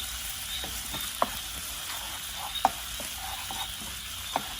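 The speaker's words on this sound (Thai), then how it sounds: "แล้วก็ผัด ต่ออีกนิดนึงนะครับ" Pork ribs stir-fried in a pan with chopped green and black olives, giving a steady sizzle with a few sharp scraping stirs at irregular moments, close up and fairly loud.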